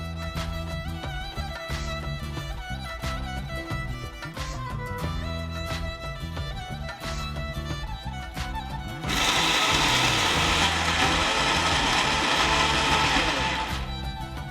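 An electric mixer grinds dry-roasted spices into powder, a loud steady whirring roar that rises to a harsher, denser grind for several seconds, then drops back, with other kitchen clatter beforehand.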